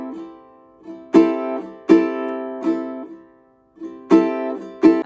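Ukulele island strum with heavily exaggerated accents: sharp, loud strokes stand out against quieter in-between strums, giving a strongly pulsing rhythm, played up close without any speech.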